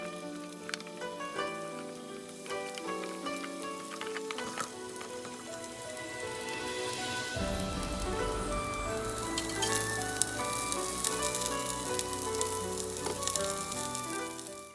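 Ginger, garlic, scallion and onion sizzle in hot oil in a ceramic pot, a steady crackling fry that grows fuller and brighter partway through, with faint stirring.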